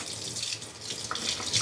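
Tap water runs steadily at a kitchen sink while two freshly sharpened knives are rinsed under it, a continuous close hiss and splash with slight changes as the blades move through the stream.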